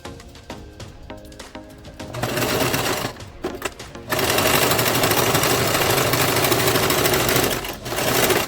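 A sewing machine stitching junk journal pages, a fast, loud, even mechanical whir in two runs, first after about two seconds and again from four seconds, with quiet handling sounds between.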